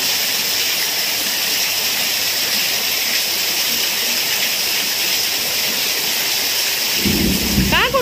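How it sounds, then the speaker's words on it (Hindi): Heavy, sudden downpour roars steadily and loudly, with a deep thunder rumble swelling near the end. "बहुत जोर वर्षा होचे"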